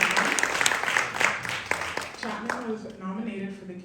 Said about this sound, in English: Let's give it a clap for that.